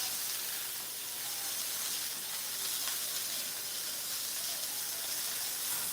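Pork chops, big center-cut ones, sizzling steadily in a pan in a home kitchen, a continuous bright hiss and crackle with no break.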